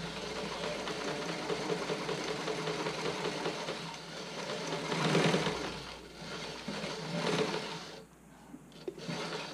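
A sewing machine stitches a fitting sample for a Cashmerette Willowdale bra, running in a continuous close whirring hum that swells and eases, pausing briefly near the end before starting again.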